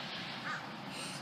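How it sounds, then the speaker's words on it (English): Several crows caw faintly near a car where a meal of eggs, potato and corn is being cooked outdoors, one brief harsh call standing out over a steady background hiss. "Walk away from my food for a little bit and I got like 5 crows."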